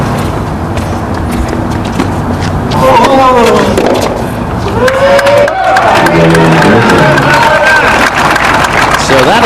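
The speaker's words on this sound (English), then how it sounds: "So that elicits a cheer from this audience here at the Darling Tennis Center." Tennis crowd cheering and clapping at the Darling Tennis Center in Las Vegas during a 2007 ATP match, loud swelling cheers and whoops under a commentator's voice.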